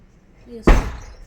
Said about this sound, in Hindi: दरवाजा बंद।